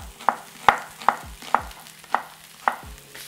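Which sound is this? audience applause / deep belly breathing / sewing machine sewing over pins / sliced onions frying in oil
sliced onions frying in oil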